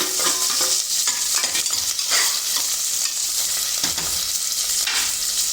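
Onions frying in hot oil for pudina rice, a loud, continuous sizzle broken by repeated stirring scrapes and clatters close up, with nobody speaking.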